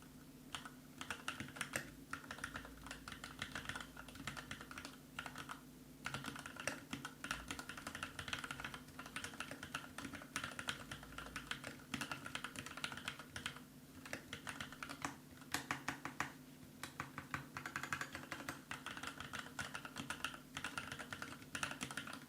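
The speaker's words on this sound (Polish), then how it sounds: "posłuchajcie jeszcze jak ta klawiatura brzmi" Continuous typing on a Keychron K8 TKL mechanical keyboard, dense rapid keystrokes clicking and clacking steadily up close for over twenty seconds, with no talking.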